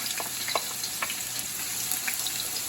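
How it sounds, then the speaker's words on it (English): Onions and garlic frying together in a pan, a quiet, steady sizzle broken by soft crackles and small pops, close by with nobody speaking. "We have onions and garlic in here, mixed together. We're gonna go ahead and fry these."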